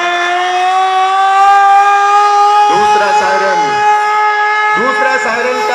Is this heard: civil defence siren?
yes